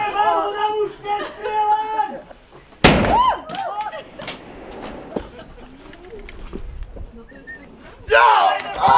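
Gunfire in a staged castle battle scene cracks out as one loud burst, then a few scattered pops amid shouting and a battle crowd, with voices raised before and after.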